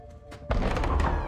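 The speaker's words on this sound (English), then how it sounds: "Why are you banging on my door all hard?" In the Marvel's Midnight Suns video game, a heavy knock or bang lands on a door, a sudden close thump followed by a brief ringing decay, with a quiet lead-in beforehand.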